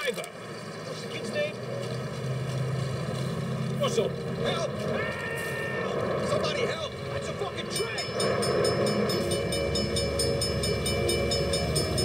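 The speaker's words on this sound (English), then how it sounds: "Yeah, there's the train coming." A train rumbles past in the video game Saints Row, a steady low mechanical roar with clanking that swells toward the end, mixed with game sounds and voices talking over it.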